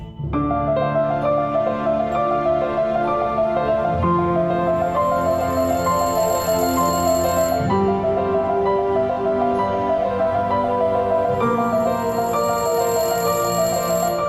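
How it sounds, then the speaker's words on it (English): A telephone rings over and over in a steady, even pattern of bright, repeating tones that carry on without a break and with no speech. "there's literally almost a phone ringing"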